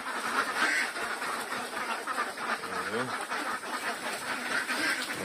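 Ducks quacking on a Philippine duck farm, a few short nasal calls heard mid-distance under steady outdoor background noise, without clear talk over them.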